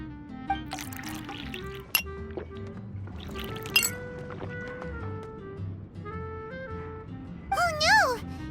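Glass clinks and juice pours in the Genshin Impact video game, bright chinks scattered over a bed of soft music and ambience, with a louder pouring swell near the end.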